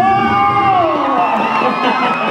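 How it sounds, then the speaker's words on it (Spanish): Loud crowd at a lively gathering in Iztapalapa cheering and shouting as a man named Sammy is called up, with whoops and voices rising together in a continuous, close roar. "¡El aplauso, el aplauso!"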